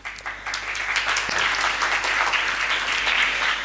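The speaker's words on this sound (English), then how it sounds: "A huge round of applause." An audience breaks into applause, dense clapping that swells quickly and stays strong and steady for several seconds without speech.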